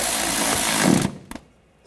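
A power tool tightens screws on the accessory drive belt tensioner of a 2013-2022 Buick Encore 1.4L, a loud close whirring run that stops abruptly after a second, followed by two quick clicks and quiet.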